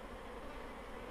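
Dense honeybees buzz at an open beehive colony, a close, even, unbroken hum with no pauses.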